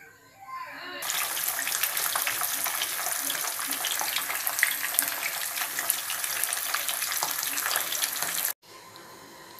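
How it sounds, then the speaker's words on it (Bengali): Pabda fish fry in hot oil in a frying pan, a loud, dense crackling sizzle that starts abruptly after a second and carries on steadily until it cuts off near the end. "আর আমার তেলটা দেখো গরম হয়ে গেছে প্যানের মধ্যে, এবার আমি মাছগুলোকে এর মধ্যে ছেড়ে দেবো।"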